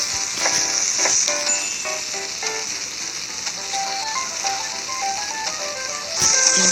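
Peeled onions sizzle steadily in a pan in the Cooking Mama video game, a continuous loud fry hiss under light chiming game music with brief plinking notes.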